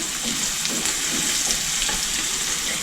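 Onion sizzling in bacon fat in a pan, a steady, fairly loud hiss with faint crackles and no talking.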